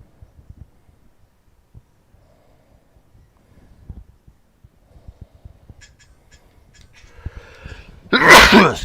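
After a stretch of quiet game ambience with soft thumps and faint clicks, one loud, close, sudden sneeze bursts out at the very end.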